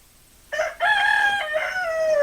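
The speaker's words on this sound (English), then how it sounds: "There's Onyx the rooster here in the background" Onyx the rooster crowing in the background, one loud drawn-out cock-a-doodle-doo after a short opening note, heard alone.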